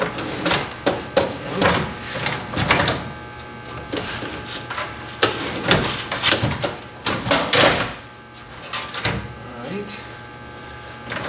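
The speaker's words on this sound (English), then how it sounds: "Then you're going to want to push the drawer closed." Drawer of an AWS gun locker installed in a 2011-or-later Dodge Charger, pushed shut amid a busy run of clanks, knocks and rattling taps close by, with a voice talking over it.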